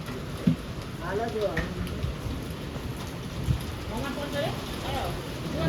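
A heavy rain and windstorm at 2 a.m. pours down steadily and loudly, with a low rolling rumble beneath. Voices talk faintly underneath the rain.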